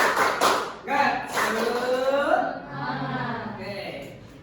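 A group claps out the rhythmic 'tepuk semangat' pattern during a teacher training session, short sharp clap bursts mixed with chanting voices that carry through the clip.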